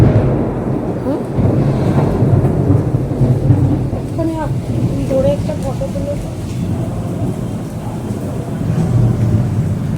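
Low rolling thunder rumbles continuously with rain and wind noise, loud and close, while a voice speaks faintly underneath.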